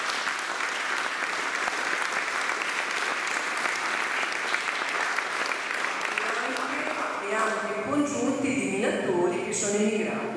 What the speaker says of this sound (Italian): chiederei un applauso.